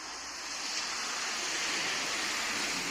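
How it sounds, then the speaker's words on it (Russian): Floodwater runs along a street where the water gathers and floods houses, a steady, fairly quiet rushing wash of flowing water heard alone without voices. "Вот со всех улиц вода собирается в этом месте и топит дома."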